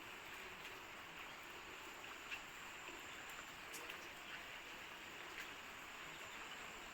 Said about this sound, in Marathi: पाऊस काय थांबायचं नाव घेत नाही